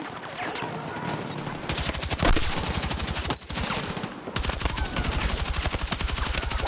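TR7 rifle fire in the shooter Battlefield 6: long rapid strings of automatic shots in a steady rhythm, loud and close, with a brief pause midway before firing resumes.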